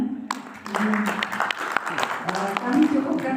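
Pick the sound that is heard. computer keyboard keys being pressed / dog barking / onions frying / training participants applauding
training participants applauding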